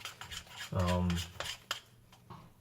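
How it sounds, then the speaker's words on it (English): A light green keto mixture is stirred by hand in a bowl until smooth, giving soft scraping and rubbing sounds with a brief low hum partway through. "you just want to stir it up like that"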